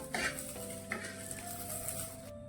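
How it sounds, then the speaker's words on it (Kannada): Green chillies fry in oil for a tomato chutney, giving a steady close sizzle and crackle with a few soft stirring scrapes and no talking. "ಒಂದು ಸ್ವಲ್ಪ ಎಣ್ಣೆ ಹಾಕೋರಿ ಅದಕ್ಕೆ ಮೆಣಸಿನ್ಕಾಯಿಗೆ, ಅಂದ್ರೆ ಚಲೋ ತಂಗ ಹುರಿತಾವ್ರಿ ಇವು"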